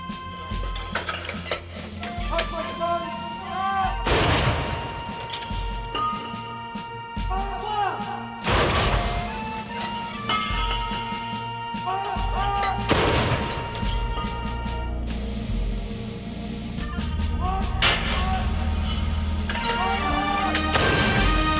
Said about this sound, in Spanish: las salvas de cañón disparadas desde los bastiones del castillo de la ciudad